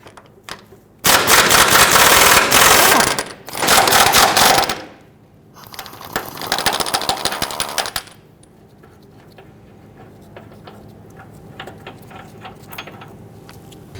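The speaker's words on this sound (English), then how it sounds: "remove the 2 bolts on the rear of our cradle. These are both 19mm" Impact or air tools loosening the 19mm bolts at the rear of the front cradle on a 2011-2015 Kia Sorento: two loud rattling bursts, a short pause, a third burst, then quieter clanks and shop noise.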